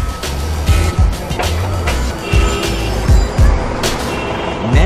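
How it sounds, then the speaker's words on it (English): Dense street traffic roar in Times Square, New York City, loud and continuous, with vehicle rumbles and repeated low thumps rising through the busy urban din. "Times Square is probably the loudest place in New York City on the street level."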